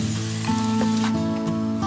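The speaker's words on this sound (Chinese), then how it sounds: "炸至微黄酥脆" Egg-coated peanuts deep-frying in oil over medium heat, stirred constantly until lightly golden and crisp: a close, continuous hissing sizzle with soft crackles, running under a steady background of sustained musical tones.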